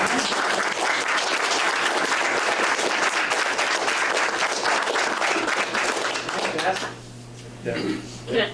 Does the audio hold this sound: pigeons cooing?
no